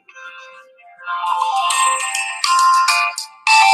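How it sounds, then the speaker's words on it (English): A phone ringtone plays loud and close, a bright, busy electronic melody that starts softly and then swells into repeated bursts, with no talking. "Well, I got a phone call."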